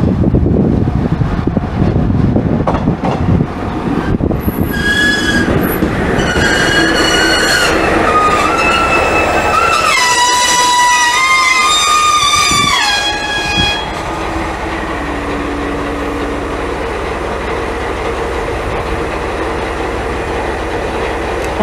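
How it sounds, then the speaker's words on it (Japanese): A Series 1500 single-car one-man local train pulls into Konpiramae station on the Naruto Line, its horn sounding in a series of loud tonal blasts over rumbling wheels and squealing brakes before it settles to a steady idle. "ワンマン電車です"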